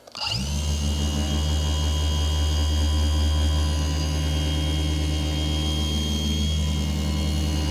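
A car polisher works a paint surface with heavy cutting compound on a Meguiar's cutting pad. The machine drones steadily and loudly for the whole stretch, with a strong low hum and a whining motor tone.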